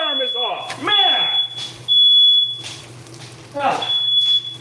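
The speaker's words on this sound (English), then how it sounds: "I can't believe the freaking fire alarm is off." In a home kitchen, a smoke alarm set off by cooking emits a high, piercing tone. It sounds almost continuously with a brief gap, while someone talks loudly over it.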